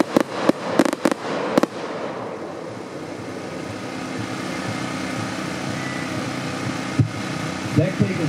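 A 100-shot gold mine fireworks cake with gold wave and blue effects fires a quick burst of several sharp, loud bangs, then gives way to a rumbling crackle and a few scattered later pops outdoors.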